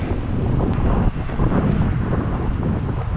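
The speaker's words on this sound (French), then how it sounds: "je sais pas s'il n'y a pas trop de vent là" Strong wind buffets an outdoor microphone in the mountains on a cycling outing, a steady loud rumbling roar that fills the whole stretch with no other sound standing out.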